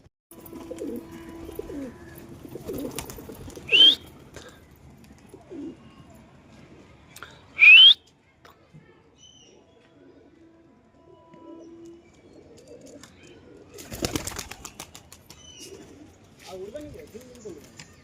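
Pigeons on a rooftop coo softly with occasional sharp chirps and a burst of flapping wings, while a person talks intermittently nearby.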